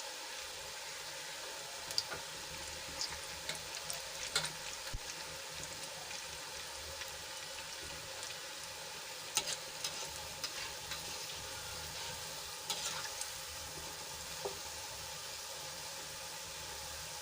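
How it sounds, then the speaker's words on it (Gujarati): Kumbhaniya bhajiya fritters of gram-flour batter frying in hot oil over a low gas flame, a steady faint sizzle and hiss running throughout with occasional small pops and clicks. "આપણા ભજીયાને તળાતા વાર નહીં લાગે થોડી જ વારમાં ગોલ્ડન બ્રાઉન થઈ જશે"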